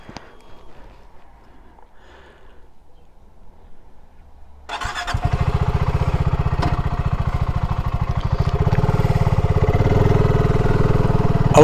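A BSA Goldstar 650 motorcycle starts after a quiet stretch and settles into a loud, close, steady idle with a rapid, even thumping beat that continues to the end.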